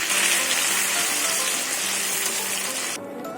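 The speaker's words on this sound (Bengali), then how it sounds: "মশলাটা কষিয়ে নেবো ভালো করে।" Ground poppy seed, cashew, tomato and green chilli masala fries in a pan with a dense, continuous hissing sizzle that cuts off abruptly near the end, with a faint steady hum beneath.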